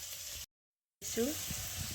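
Mixed vegetables frying in a pan, with a steady close sizzle broken by a short silent gap partway through and a few faint tonal sounds over the hiss.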